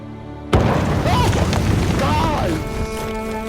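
A door bangs loudly and suddenly in the video game Final Fantasy XV, a single sharp hit followed by a few seconds of dense, rumbling in-game noise.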